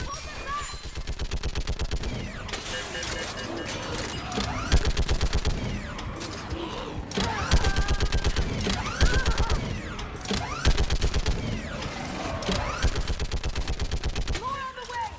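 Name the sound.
gunfire from a gunner in a video game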